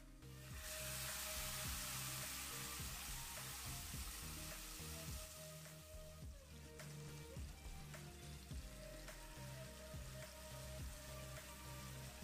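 Fish frying in a pan gives off a constant, bright sizzle with small crackles and pops, close up and unbroken by any voice.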